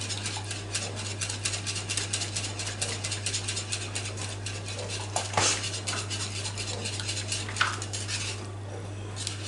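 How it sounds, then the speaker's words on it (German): A whisk beats tomato sauce in a bowl with rapid metallic clicks and scrapes, close and steady for most of the stretch under a low constant hum, then eases off toward the end. "mit einem Schneebesen wird das Ergebnis beim Umrühren besser und schneller erreicht"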